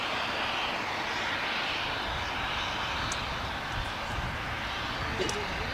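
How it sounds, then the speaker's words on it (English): A Swiss Boeing 777-300 on final approach to LAX produces a steady, broad jet engine roar that holds at a constant level with faint talk mixed underneath. "we have incoming on final approach on the south side, Swiss Air Flight 40 from Zurich on their 777-300."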